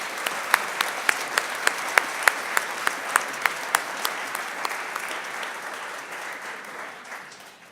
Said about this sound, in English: how about a big round of applause for all of our student entrants?